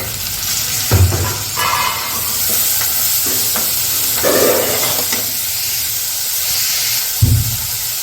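Tomatoes fry in a hot pan with a continuous close sizzle, while a spoon stirs them and scrapes and knocks against the pan at irregular intervals.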